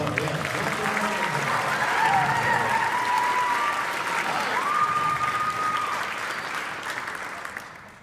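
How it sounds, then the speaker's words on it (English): Audience applauding at a talent show, a steady wash of clapping from a sizeable crowd with faint whistles and cheers riding on top, sustained for several seconds before easing off near the end. "Let's give them a big round of applause."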